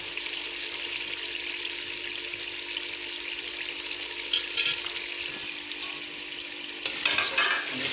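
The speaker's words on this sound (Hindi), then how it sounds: "इसी तरह आप थोड़ा सा इसको चम्मच चलाते जाएंगे ताकि टमाटर प्याज वगैरह पेस्ट होते जाएंगे और मसाले हमारा भुनाई हो जाएगी।" A spoon stirs a tomato and onion masala as it fries gently over low heat in a pan, giving a steady soft sizzle with faint scraping and clinks of metal on the pan.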